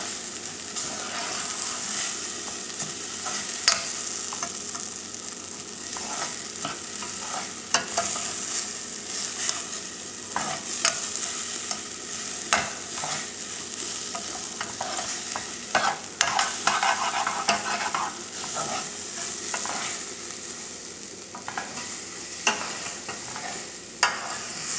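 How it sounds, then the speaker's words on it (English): Rice sizzles and crackles while frying in butter in a hot pan, with repeated scraping stirs and small pops throughout, close and steady, no talking. "when you're frying the rice."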